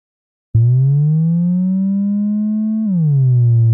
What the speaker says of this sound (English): you can hear that the pitch goes up and goes back down